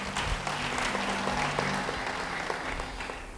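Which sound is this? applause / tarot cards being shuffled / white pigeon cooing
applause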